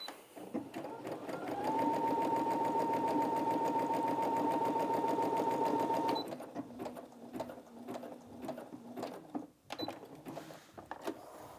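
Brother Innov-is A16 sewing machine running a short, close stitch: a steady high-pitched motor whine and rapid needle clatter for about four seconds, then stopping as faint handling noises continue.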